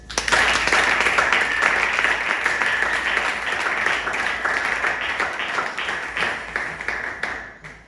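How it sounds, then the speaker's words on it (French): A congregation in a French-speaking church breaks into loud, sustained applause that fades toward the end, with faint voices mixed in. "Est-ce qu'on peut acclamer Jésus?"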